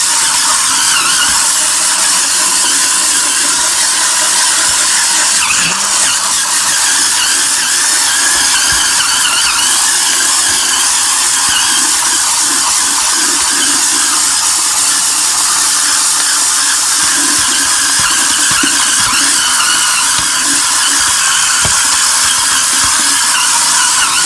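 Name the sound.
cordless spin scrubber brush scrubbing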